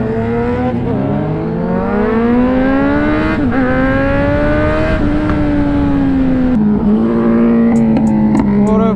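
A group of motorcycles, including a Kawasaki Z900, rides off with loud revving, its engine whine climbing and dipping in pitch close by, with no talk over it.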